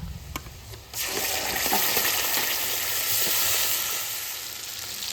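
Chopped onions and ground spice paste sizzle loudly in hot oil with dried chilies and whole garam masala, the base for a rita fish curry; a steady, close frying hiss fills the pan after a brief quieter start.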